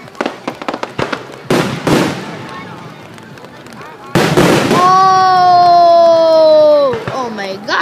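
Fourth of July fireworks bursting nearby in a rapid barrage of sharp cracks and loud booms, then a long whistling, wailing tone that slides downward. Excited voices call out between the bursts.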